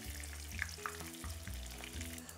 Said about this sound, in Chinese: 咁其實呢個咧就叫做半煎炸啦。